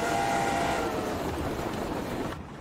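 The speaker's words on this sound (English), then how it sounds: "this one's got a cool whistle, by the way, in Steam Sound Supreme" A steam locomotive in a train simulator game rumbles along with a broad, sustained whistle tone held steadily for about two seconds before cutting off abruptly, loud and close with no talk.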